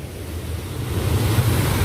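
The Kali Brantas river rushing past the Rolak Songo weir in Mojokerto, a dense, steady roar of turbulent water with a low rumble, continuous and fairly loud, with wind buffeting the microphone.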